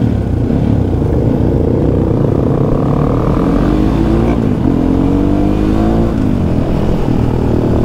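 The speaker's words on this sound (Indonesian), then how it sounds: "Oke sekarang kita nyobain knalpotnya." A motorcycle fitted with a Radamel F4 titanium exhaust revs loud and near, a throaty continuous roar that climbs and dips in pitch through several throttle blips.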